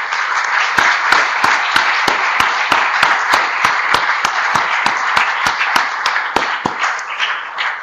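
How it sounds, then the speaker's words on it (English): Steady, loud applause fills a hotel ballroom at a lunar science forum award session, a dense wash of clapping with distinct sharp claps standing out throughout. "I would like to give a big round of applause to all the students who are here."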